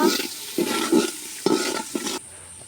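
Chopped onion and whole peeled garlic cloves sizzling in a pan while being stirred, with several scraping, hissing bursts spaced through the moment before it quiets.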